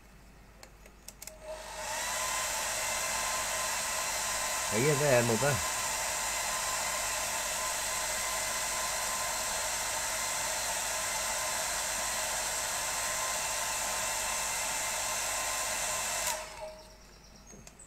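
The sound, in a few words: hairdryer drying acrylic paint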